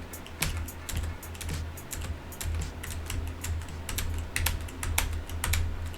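Computer keyboard keys are tapped in quick, irregular bursts of light clicks while gaming through a tricky conveyor section of Juke's Towers of Hell, close and steady for several seconds with no voice.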